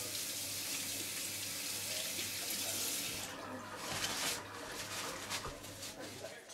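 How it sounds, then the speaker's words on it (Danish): A tap runs steadily into a sink for hand washing in a toilet setting, a broad hissing flow that eases partway through, with a low hum in the background. "Tak, fordi du husker at vaske hænder."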